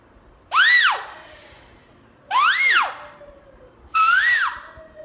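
Three loud, shrill paper whistle blasts, each swooping up then down in pitch, imitating a peacock's call, separated by short pauses.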